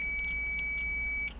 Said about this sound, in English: Every time it says 1, it should be beeping.